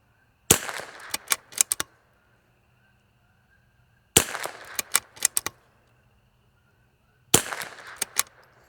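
Test ammunition fired from an L3I Stinger rifle in three quick strings of several sharp, loud shots each, separated by pauses of a couple of seconds, with no talking.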